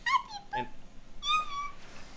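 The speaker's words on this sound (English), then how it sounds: "I think the cat said hi, people" A pet cat lets out several short meows in quick succession, close by and fairly quiet, with a brief pause between the first pair and the last call, and no voices over them.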